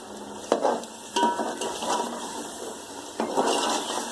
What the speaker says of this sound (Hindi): अब मैं टमाटर डाल रही हूँ,